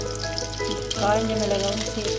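Garlic and mustard seeds frying in oil in a kadai give a steady close sizzle with faint crackle, running continuously beneath a voice speaking over it.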